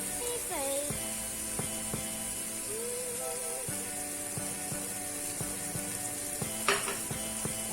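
Crème fraîche sizzling in a pan with mushrooms for a steak sauce, a steady moderate fry with spoon clinks and scrapes against the pan and one brief louder spatter near the end.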